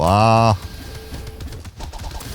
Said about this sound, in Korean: 초록색 올빼미